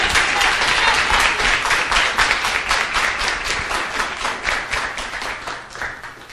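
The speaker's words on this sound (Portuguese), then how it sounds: "Pode dar uma salva de palmas para o nosso Senhor Jesus" A church congregation claps during a worship service, rising into a strong, nearly unison rhythm that carries a steady beat. The clapping then thins and softens toward the end.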